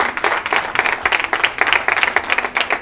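A congregation at a wedding ceremony claps together, a dense run of applause that rises and dips in irregular bursts throughout.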